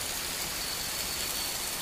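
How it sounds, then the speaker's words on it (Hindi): Steady, dense hiss of heavy rain pouring down, an even wash of noise with no breaks and no voices. "बहुत ही जबरदस्त बारिश चल रही है"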